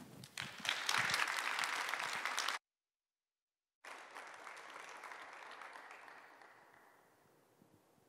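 Audience applause at an online church concert rises in a dense burst of clapping, cuts to silence, then returns as a fainter, steady round of claps that gradually fades out.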